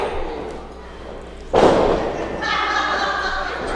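A heavy thud as a wrestler is driven onto the canvas with a bulldog at a stunt studio wrestling event, a single loud impact over crowd noise and commentary.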